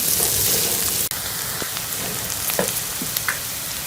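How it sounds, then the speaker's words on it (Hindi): Steady sizzling crackle of onions frying in a hot pan, with a brief dropout and a few scattered pops. "और प्याज को जो है वो हम हल्का सा ब्राउन कर लेंगे।"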